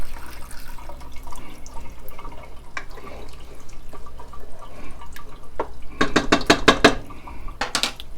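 Chicken parmesan sauce gets a stir in a pot over a low flame. A metal utensil gives quiet scraping and clinking at first, then a burst of sharp, rapid clanks against the pot near the end, with no talking.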